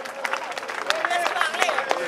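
Rally crowd at Place de la Nation applauding and cheering, a broad wash of clapping mixed with shouts and a voice rising over the noise throughout.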